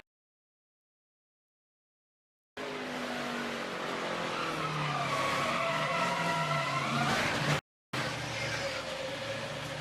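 A race car at an ARCA race at Gateway Motorsport Park slides out of a corner, its tires giving a loud, sustained squeal over the roaring engine after an initial silence, briefly cut before resuming.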